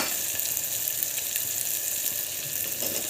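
Soaked peas and peanuts hit hot spiced masala in a pan, setting off a loud, steady, hissing sizzle that carries on evenly throughout.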